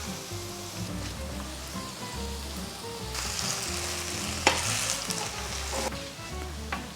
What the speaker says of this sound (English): add a generous amount of vegetable oil and place a big scoop of the pancake mixture onto the pan